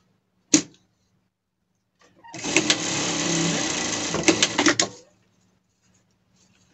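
A sewing machine stitches hems on a leather pet harness in one close burst of rapid mechanical whirring lasting a few seconds, preceded by a single sharp click and ending in a few knocks before silence.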